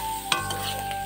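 Potatoes frying on a clay stove get a quick stir, a single short scrape through the sizzling oil over a faint steady hum.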